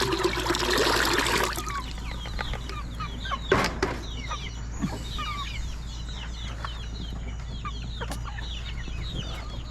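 Chickens cluck and call steadily at close range while being dipped in water medicated against ticks and lice, over a low constant hum, with faint trickling water and a couple of sharp knocks.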